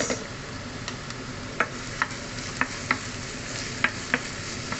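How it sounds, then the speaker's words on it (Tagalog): Onions fry in a pan for a green long bean dish with a continuous sizzle, broken by regular sharp taps of a utensil against the pan. "Onions. Fried onions."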